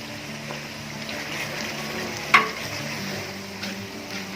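Green chillies dropped into frying masala for stuffed tinda sabzi make a steady soft sizzle with one sharp clink near the middle, no talking.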